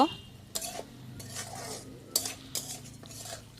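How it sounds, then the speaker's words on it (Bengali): Bitter gourd stir-fried with green chillies in a pan: several sharp spatula scrapes and clinks against the metal come in irregular bursts over a faint, steady sizzle. "ভেজে রাখা তিতকল্লাগুলো তো দিয়ে আমি এক দু মিনিট আবার ভালোভাবে কষিয়ে নেব"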